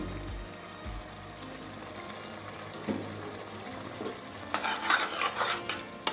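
Channa pulao rice and curd stirred in a pot, a soft bubbling sizzle with scraping and swishing strokes that grow busier and louder toward the end, close up and with no talking.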